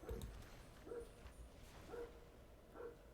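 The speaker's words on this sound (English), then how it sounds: "There's a dog going ballistic outside." A dog barks furiously outdoors, heard faintly and at a distance through a wall or window, with single barks repeating roughly once a second over a low steady background hum.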